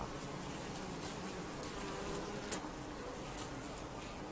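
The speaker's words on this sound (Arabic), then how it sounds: "فهنا النحلة تقوم برفرفة أجنحتها ونزع الأوساخ بأرجلها الوسطى كما تشاهدون" A honeybee fans its wings at the hive entrance with a faint, continuous buzzing drone. A few brief clicks occur, and no one speaks.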